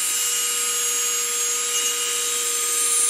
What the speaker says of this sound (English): Try not to lose your grip on the drill bit.